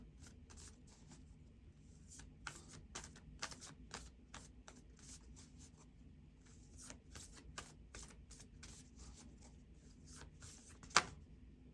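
Tarot cards are shuffled close by in quiet, repeated bursts of papery riffling, with one sharper tap near the end.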